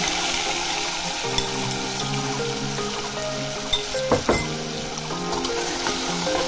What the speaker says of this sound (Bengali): এর মধ্যে এবার তেলটা গরম হয়ে গেলে আমি এর মধ্যে ম্যারিনেট করা মাটনগুলো দিয়ে দেব